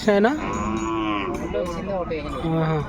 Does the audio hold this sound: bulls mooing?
yes